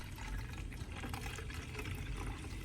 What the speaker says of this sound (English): I pour the onion, mandarin peel, and coffee solution into a spray bottle.